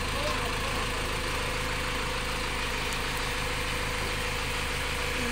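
A tractor engine running steadily at close range, with a continuous low idling rumble and vibration that holds level throughout.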